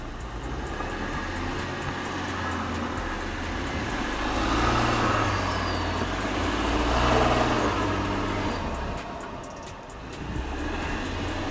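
Audi Q8 SUV climbing an off-road slope with wheels spinning: a steady, loud engine and tire drone that swells and surges midway, with no speech.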